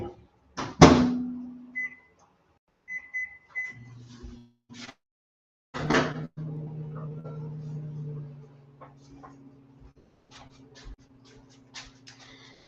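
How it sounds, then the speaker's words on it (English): A microwave oven is set to grill for three minutes: several loud clunks and clicks and a few short beeps, then a steady low hum of the oven running, close, with no talk. "I'm going to put this in the grill position for 3 minutes."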